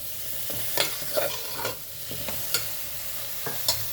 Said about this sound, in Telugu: ఇప్పుడు సొరకాయ వేసుకుందాము. బాగా ఫ్రై కానివ్వమ్మా